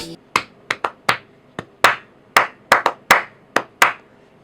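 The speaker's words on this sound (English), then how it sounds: "if I clap a pattern" Bare hands clap a syncopated rhythm pattern, about fourteen sharp, close claps in uneven groupings with brief silences between them.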